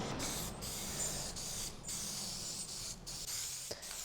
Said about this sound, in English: Just got all that sprayed in there.